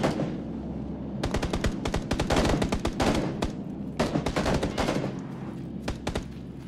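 Sustained automatic gunfire in the video game Battlegrounds: rapid bursts of sharp shots in long strings with brief pauses, loud and close, with no voices over it.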